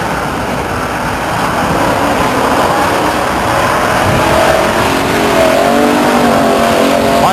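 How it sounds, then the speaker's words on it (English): Race cars running three abreast down the front stretch in dirt drag racing at Stockton 99 Speedway, a loud continuous roar of several engines revving and accelerating together, close and steady for the whole stretch. "Dirt drag racing 3 abreast down the front stretch here at Stockton."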